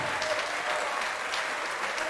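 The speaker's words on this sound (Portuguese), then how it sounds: "Vamos aplaudir ao nome de Jesus." Members of a church congregation applaud together in a steady wash of clapping, moderately loud and filling the space without talk over it.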